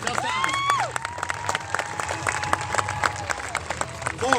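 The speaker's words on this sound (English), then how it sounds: "let's give a big round of applause for our jumpers." A crowd claps and cheers for parachute jumpers at an Eglin Air Force Base open house, steady applause spread across the whole stretch, with whistles and scattered shouts rising above it.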